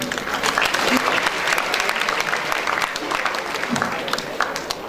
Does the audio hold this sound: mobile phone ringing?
no